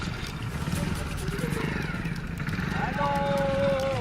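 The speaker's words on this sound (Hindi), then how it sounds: "रील बनाने के चक्कर में एक युवक नदी में बाइक चला रहा है।" Motorbike ridden through floodwater in a swollen river during monsoon flooding, its engine droning steadily under a reporter's voice talking over it throughout.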